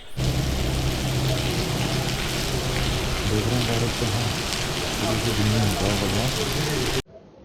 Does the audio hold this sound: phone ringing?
no